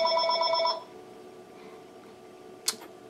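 A telephone rings with a repeating electronic trill for under a second near an old Dolch PAC 65 computer setup, then cuts off into quiet room tone, followed by a single brief click.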